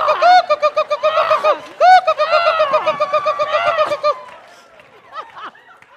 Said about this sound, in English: may the seagulls devour the crickets